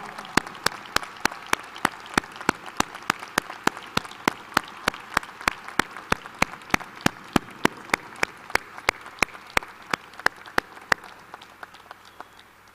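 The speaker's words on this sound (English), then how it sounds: "Students, let's give your families a round of applause." Applause for families at a 2015 early college graduation ceremony, heard as sharp, evenly spaced claps over a soft background, as if a few hands clap close to the microphone amid a distant crowd.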